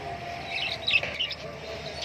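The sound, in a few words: cockatiels, lovebirds, budgies and pigeons chirping in bird shop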